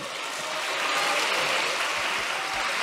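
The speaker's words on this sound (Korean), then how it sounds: "아마 박수는 민주당이 친 것" Lawmakers in the National Assembly applaud in a loud, sustained, dense wash of clapping that holds steady throughout.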